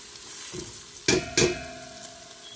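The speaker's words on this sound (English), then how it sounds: "Now we're gonna add large onion along with celery and chopped garlic" Large onion, celery and chopped garlic drop into a hot pot for broccoli soup, two sharp bursts of sizzle over a quieter frying hiss, close by and without talk.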